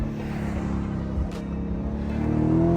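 A 2023 Lamborghini Urus Performante SUV's engine drones steadily while driving, a low continuous rumble that swells slightly louder toward the end.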